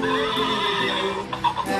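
A toy horse sound plays a bright, close neighing whinny that lasts nearly two seconds, fairly loud with no talk over it.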